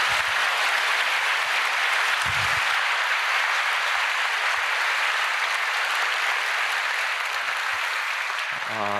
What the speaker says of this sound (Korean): 용기 있게 이렇게 말씀해 주시고 나눠주신 우리 남경필 집사님께 우리 박수로